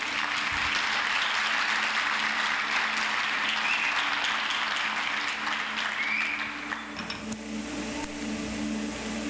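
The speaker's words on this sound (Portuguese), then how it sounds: "Pode aplaudir o nome do Senhor" A church congregation claps in praise, a continuous, fairly dense applause with a faint hum underneath, easing slightly near the end but carrying on steadily throughout.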